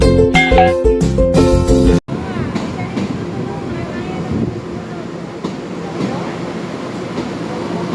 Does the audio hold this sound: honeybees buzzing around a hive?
no